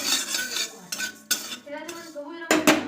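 Whole coriander, mustard and cumin seeds dry-roast in a kadai, with a spatula scraping and clinking against the metal in short bursts and the seeds rattling lightly between strokes, close up.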